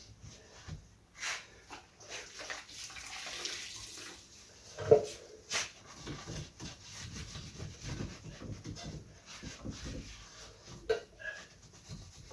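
Water spraying to wet down dirty surfaces in a filthy room being cleaned for the first time in over 40 years, an uneven hiss and splatter in bursts with some rubbing and knocks, fairly quiet.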